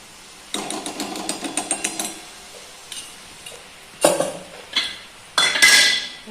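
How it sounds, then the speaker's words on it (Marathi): A small bowl of rice is roasted in a little ghee for kheer, the spatula making quick rattling scrapes against the pan, then a few louder metallic knocks and clatters, close by with no talk. "त्याचा ब्राऊन कलर येईपर्यंत तांदूळ भाजून घेऊयात."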